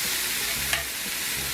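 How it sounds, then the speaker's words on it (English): Food frying in bacon fat in a cast iron skillet, a steady, close hiss of sizzling that stays even throughout, with a brief stirring scrape near the middle. "Cooking it down in that bacon fat."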